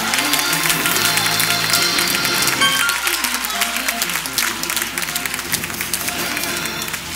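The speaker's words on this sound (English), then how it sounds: "Clap your hands and bless him right there." Church congregation applause with dense, rapid clapping from many hands, loud and continuous, with some voices mixed in.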